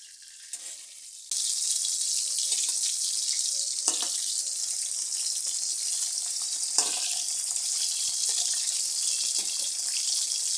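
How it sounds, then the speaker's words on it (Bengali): Tilapia fish frying in hot oil for a potato-cauliflower fish curry: a quiet opening gives way abruptly to a loud, continuous bright sizzle with a couple of brief crackling bursts, close up and wordless. "মাছগুলোকে আমি একটু লাল লাল করে বেজে নেব তেলাপিয়া মাছটা একটু লাল লাল করে বেজে নিলে খেতেও ভালো লাগে"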